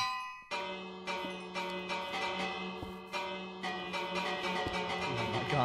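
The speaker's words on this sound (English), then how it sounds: "It's a very special bell." Village bell in Minecraft struck repeatedly, bright metallic clangs roughly every half second to second, each ringing on and overlapping into a sustained shimmer, faint overall.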